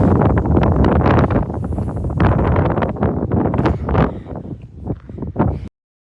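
Strong wind buffets a microphone outdoors in stormy weather, a loud, continuous rumbling roar with gusty surges that ease slightly toward the end before cutting off abruptly.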